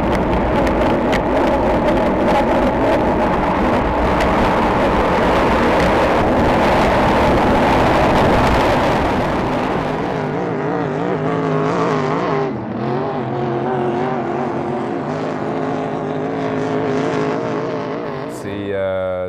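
A racing boat's engine roars loud and steady during a regatta, with wind buffeting the microphone, then the motor eases into a lower drone as someone talks over it.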